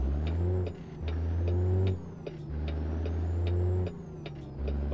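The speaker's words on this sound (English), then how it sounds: "Love the sound of this truck." A heavy Caterpillar truck engine in American Truck Simulator drones steadily, with a deep pulsing throb that cuts out and returns in a repeating cycle, loud and close.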